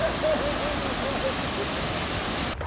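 A waterfall near a bridge in Jajce, Bosnia and Herzegovina, roars as a steady broadband wash of falling water, heard from a distance. It continues evenly throughout and cuts off abruptly near the end.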